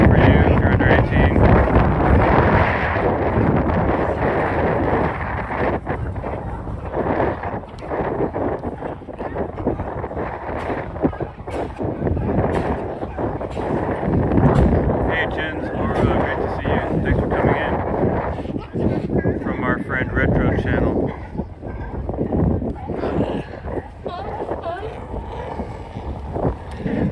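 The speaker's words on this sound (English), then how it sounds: "Pretty windy." Strong wind along the San Francisco waterfront buffets the microphone with loud, continuous rumbling gusts, while a person speaks intermittently beneath the roar.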